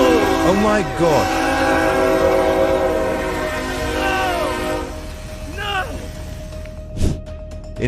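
A train approaches a rail crossing in Virginia where a tractor-trailer is stuck, with a steady rumble and a sustained horn blast through the first half, then rising tones and a sharp burst near the end; people talk over it.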